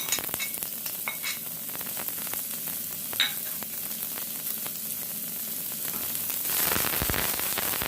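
Onion fries in oil in a hot pan that has been turned down, a steady close crackling sizzle with occasional stirring clicks and a brief louder surge of hiss toward the end.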